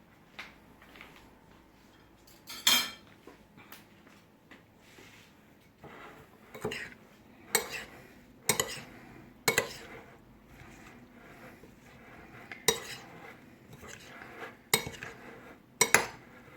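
A spoon scrapes and clinks against a bowl while mixing fresh salsa with lime and cumin, a series of sharp metallic taps spaced irregularly over soft stirring, close and fairly quiet.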